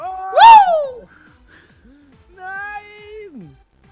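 A cat in the video game Sacred lets out a loud, clear meow followed by a second, softer drawn-out meow, alone with no talking.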